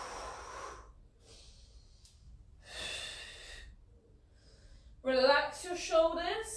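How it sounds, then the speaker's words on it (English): Audible breaths during a Pilates twist exercise, two long airy exhales a couple of seconds apart, fairly faint, followed by an instructor talking. "We need to breathe."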